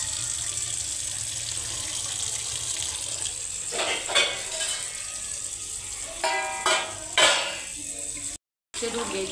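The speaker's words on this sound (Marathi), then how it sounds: "फुल नळाखाली स्वच्छ धुवून घ्यायचे." Fish rinsed under a running kitchen tap, a continuous close water hiss with several brief splashes and clatters as pieces are handled.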